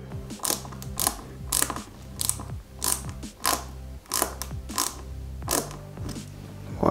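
A screw driven into the finger joint of a Robocop cyborg model kit, heard as repeated close ratcheting, clicking turns in short bursts with brief pauses between them.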